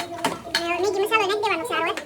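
Metal spoon clinks and scrapes against a cooking pot while Maggi noodles are mixed in, short clatters scattered beneath a child's and an adult's voices talking throughout.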